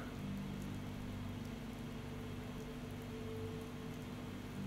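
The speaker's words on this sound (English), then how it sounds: "it's raining once again." Steady rain falls in the Fallout 4 wasteland, a continuous, even wash of patter with a low engine-like hum beneath it and no voices.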